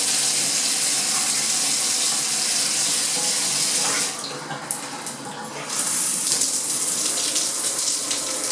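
Water runs steadily from a repaired bathtub faucet spout and shower head, a loud continuous rushing stream that briefly dips in force midway before returning full and strong.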